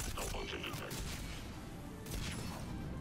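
Rapid gunfire from a nail-shooting weapon in Mass Effect 3, a dense clatter of shots and small explosive bursts running without pause, loud and close, with a heavy burst of fire near the end.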